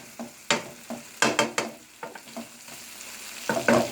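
Green beans are stir-fried in a hot pan for chicken chow mein, with sharp bursts of sizzling and scraping as the spatula tosses them in irregular strokes, close and alone without talk.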